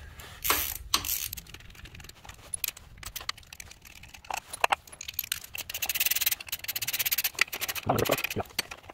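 A 5mm Allen wrench removes screws from a Yamaha V Star 650 during an oil change, with close metallic clicks, ticks and scrapes, tool jangles and small parts handled in irregular bursts.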